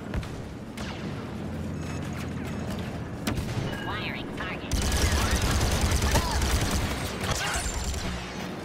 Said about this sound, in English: I'm just randomly shooting